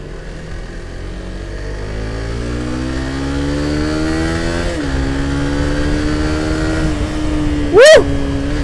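A Suzuki GSX-R150 with a DOHC engine revs up through high RPM, its pitch climbing steadily, then shifts and keeps pulling; a sharp brief whine near the end cuts through the loud, close engine drone.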